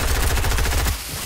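Rapid automatic gunfire from a video game rattles in a fast burst of about a dozen close shots, then cuts off abruptly.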